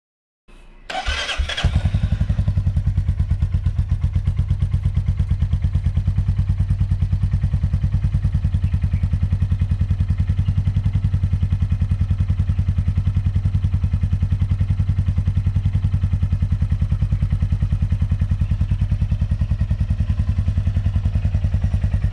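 A Royal Enfield Meteor 350 motorcycle fitted with an accessory exhaust starts up and settles into a steady, loud, deep thumping idle that runs on unbroken, recorded close with no talking.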